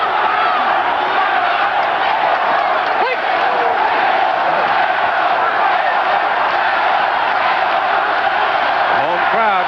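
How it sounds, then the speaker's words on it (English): A home boxing crowd at a Pedroza versus Taylor bout roars and chants steadily for Taylor, a dense wall of voices that fills the whole stretch with rising shouts and cheers. "The home crowd chanting Taylor,"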